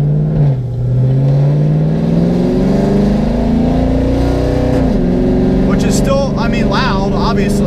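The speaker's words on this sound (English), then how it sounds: "So here's what they sound like closed," A BMW S1000RR superbike with its exhaust valves closed, revving loud and close: the engine note climbs steadily, dips sharply near the five-second mark, then keeps droning on strongly.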